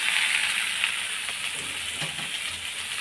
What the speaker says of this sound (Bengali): আলুগুলো দিয়ে কিছুক্ষণ ভেজে নেব